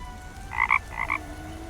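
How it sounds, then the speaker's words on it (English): Rock toad croaking in the video game The Night of the Rabbit, two quick double croaks close together against a quiet ambient background, no speech. "The rock toad just seems to be dozing now."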